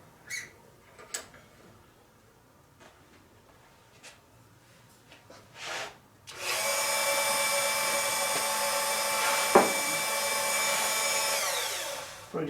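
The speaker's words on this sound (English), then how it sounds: "Using a Dremel." A Dremel rotary tool grinds on friction discs with a high, steady whine that starts suddenly after a few quiet taps and handling knocks and holds close and loud until the end.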